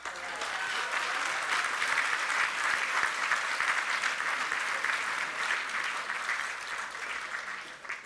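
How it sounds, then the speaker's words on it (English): Sustained audience applause at a 50th golden anniversary celebration, a steady wash of many hands clapping at moderate distance and fairly quiet, holding evenly before easing slightly at the end. "she needs an applause for that"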